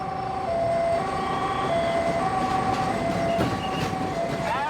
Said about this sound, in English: Those are the last two trains.